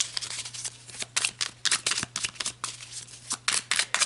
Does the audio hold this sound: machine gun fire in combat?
no